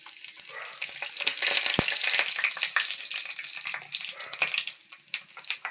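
Whole spices for tempering crackle and fry in hot oil, a short close sizzle with sharp pops and spits that rises and falls over a few seconds, no speech.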